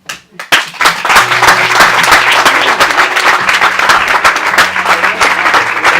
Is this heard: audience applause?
yes